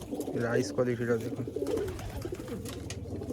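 Punjabi Malwai pigeons coo at close range, with several soft repeated coos near the start and bird sounds continuing as someone talks over them.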